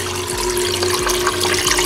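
Water in a Biocube 14 aquarium runs over the drip tray, a steady close trickling and splashing with a low hum and a rhythmic pump thump beneath.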